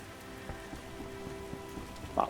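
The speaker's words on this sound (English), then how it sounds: "What a downpour." Steady heavy rain hisses in the background of The Witcher video game, fairly quiet, with a scattering of faint drips and patters.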